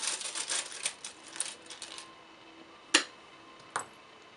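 Small letter charms dropped onto a surface: a cluster of light clicking and tinkling taps early on, then two sharper isolated clicks later, close and fairly quiet with no talking.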